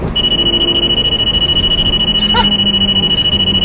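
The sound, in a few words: Valentine 1 radar detector alert in a Lamborghini Gallardo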